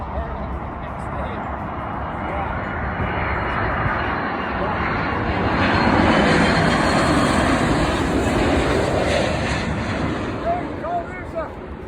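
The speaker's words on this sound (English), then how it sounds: "There's an Irish airplane." An airplane flies overhead, its broad steady engine roar swelling toward the middle and staying loud across the scene, with some faint voices and bird chirps in the background.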